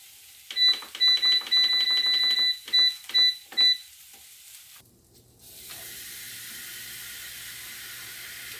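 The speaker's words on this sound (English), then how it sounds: "I'm going to pop these in the air fryer." An air fryer is set with a run of short electronic beeps, then after a brief pause it starts running with a steady fan whir and hiss while frozen garlic bread cooks inside.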